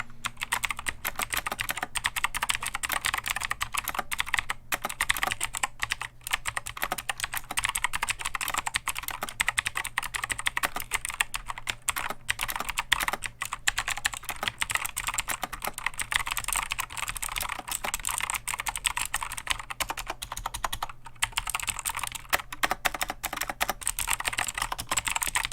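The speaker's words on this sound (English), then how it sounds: "let's do some typical key bashing" Fast, continuous key presses on an Alfawise V1 German-layout mechanical keyboard, a dense clatter of clicks heard close with brief gaps and a faint low hum beneath.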